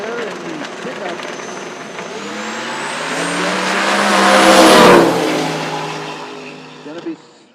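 Drag racing cars at a no-prep event at Toronto Motorsports Park, a Corvette against a pickup, roaring past loud and close with the engine note rising to a peak then fading.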